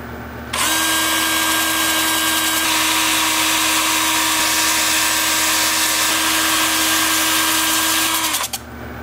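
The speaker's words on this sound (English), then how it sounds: "Time for sanding." A power sander whirs at a constant pitch for about eight seconds while sanding a wood bowl, starting and stopping abruptly, close and loud with no talking.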